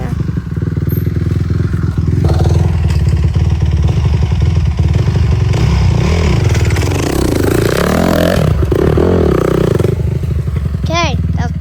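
A Honda CRF 250R dirt bike that had sat for seven years runs loud and close, its engine buzzing and revving steadily with clattery mechanical noise throughout, while people talk over it.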